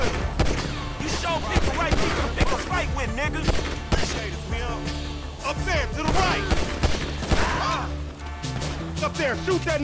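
Video game gunfire in GTA 5 crackles in dense bursts of rapid shots and impacts over a game soundtrack, while characters shout over the shooting throughout.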